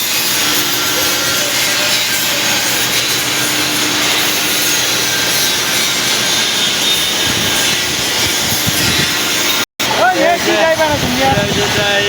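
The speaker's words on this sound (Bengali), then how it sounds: "আপনার পাওয়ার প্রেস, যেখানে খুব নিখুঁতভাবে মাল কাটিং করা হয়" A power press cutting parts in a car-making factory gives a loud, steady industrial roar with grinding, rubbing texture, broken by a brief dropout near the end.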